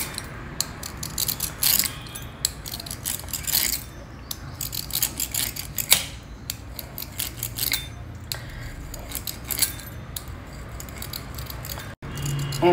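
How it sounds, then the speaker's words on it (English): Scissors snip methi puri dough into strips in quick, irregular crisp cuts, close and fairly loud, with a low steady kitchen hum underneath and no speech. "Now cut this puri into strips like this."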